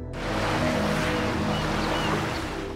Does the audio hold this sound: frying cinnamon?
no